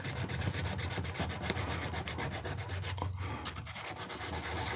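Sandpaper rubbing steadily over a carved wooden owl, a continuous close scratchy rasp with repeated back-and-forth strokes and no talking.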